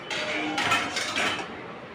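A small child sets dishes and utensils out in a kitchen, with light clinks and clatters of plates and cutlery coming close and moderately loud in a short flurry, with no talking.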